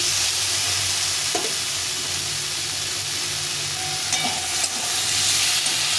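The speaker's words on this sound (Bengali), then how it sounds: "এই টমেটোটা দিয়ে দেবো টমেটোটাকে এর সঙ্গে একটু কষিয়ে নিতে হবে" Chopped tomato cooks with spices in a hot pan, producing a continuous close hiss and sizzle with a couple of soft stirring taps, and no voices.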